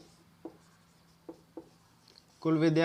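A math lesson with marker or chalk on a board: three short scratchy writing strokes, fairly quiet and close, followed by a voice starting to speak.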